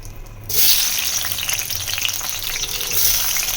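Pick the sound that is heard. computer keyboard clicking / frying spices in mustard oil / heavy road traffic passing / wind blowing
frying spices in mustard oil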